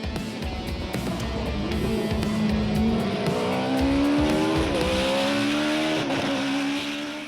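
A Formula 1 race car engine screams at close range, rising in pitch through hard acceleration with brief gear-change dips, loud and sustained over a circuit's ambient noise, no talking.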